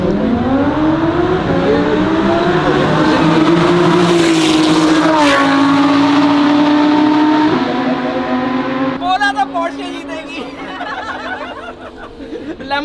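Porsche and Lamborghini race cars on a race track, one engine roaring loudly with rising and falling pitch as it accelerates and shifts, then fading into quieter mechanical noise, with voices talking and chuckling underneath.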